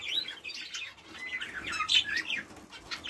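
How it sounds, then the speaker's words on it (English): Two caged canaries chirp and twitter in quick, bright bursts of song, close and moderately loud, with a brief flutter of wings among the calls. "we've got two canaries in here"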